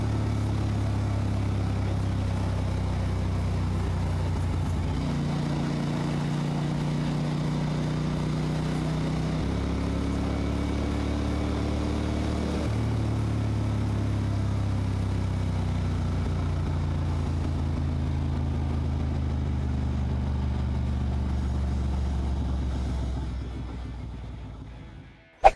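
A 1999 Ducati Monster 600 roadster's engine drones steadily while riding, the low hum shifting pitch through several gear changes as it revs and settles, loud and continuous before cutting off abruptly at the end.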